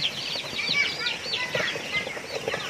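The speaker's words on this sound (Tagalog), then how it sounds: "may sisiw na, may manok na" High-pitched peeping of chicks fills the scene with busy, overlapping chirps, while hens cluck softly nearby.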